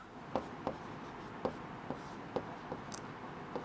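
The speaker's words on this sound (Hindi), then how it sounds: "यहां लिख देता हूं" Chalk or a marker writes on a board in a classroom, producing faint, separate tapping and scratching strokes at irregular intervals against a quiet room background.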